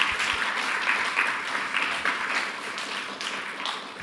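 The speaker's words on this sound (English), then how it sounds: "So a round of applause for Professor O'Mara." Audience applause after a university evening lecture, a dense, sustained round of clapping from a hall full of listeners, even and steady throughout with no talk over it.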